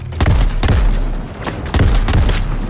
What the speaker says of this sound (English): Harley's gun is from the Bane's Rage set.